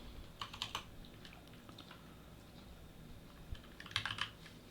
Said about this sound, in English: I'm getting used to a new keyboard here, so pardon my typing issues here today